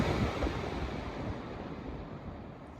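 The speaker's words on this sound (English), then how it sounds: "It actually has a really long spin down time to it." A blue Mainstays 20-inch box fan spinning down from high speed gives a steady, close whooshing rush of moving air that slowly softens and fades over a few seconds, heard alone.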